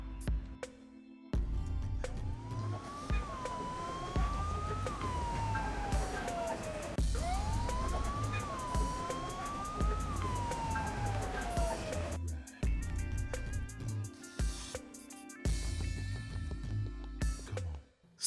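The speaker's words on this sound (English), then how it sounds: "the sirens were closer now, not distant anymore, but approaching fast." Police sirens wail in two long rising-and-falling sweeps, loud and close, over a dense background that gives way near the end to short bursts.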